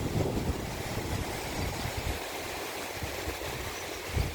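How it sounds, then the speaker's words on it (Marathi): A strong, swollen river in a Konkan village rushes past in a steady, dense roar of flowing water mixed with wind buffeting the microphone, continuous and close with no talk. "जबरदस्त फ्लो आहे पाण्याला"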